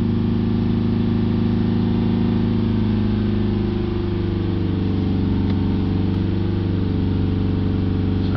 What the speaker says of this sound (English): Gonna hold the revs up at 3000 RPM